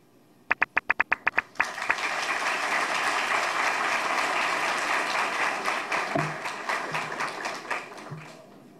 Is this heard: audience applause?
yes